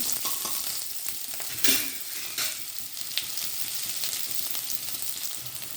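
Green chili, dried chili and chopped shallots frying in a pan for a sadya dish, a constant crackling sizzle with spoon stirring scrapes and a couple of louder bursts, close and without talk.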